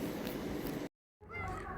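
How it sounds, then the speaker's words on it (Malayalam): A cat meows in two bursts separated by a brief silence, close and fairly loud against a busy background. "ഇതാണ് പൂച്ച."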